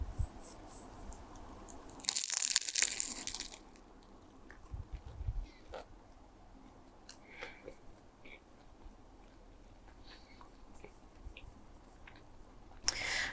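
Someone eats crunchy ropis rangup snack up close, with a loud crackly bite early on followed by quieter intermittent chewing crunches and small clicks against a hushed background.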